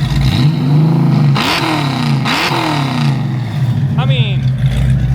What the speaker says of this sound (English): We got the Mustang fired up